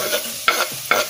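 Chopped onion drops into a frying pan of sizzling meat for a Dukan-diet plov, two sharp scrapes and bursts of hissing fat a half-second apart, close and clear with no talking.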